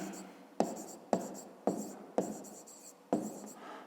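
Pen or marker writing out a maths solution, a series of sharp stroke onsets roughly every half second followed by scratchy trailing sounds, close and fairly quiet, with no voice over it.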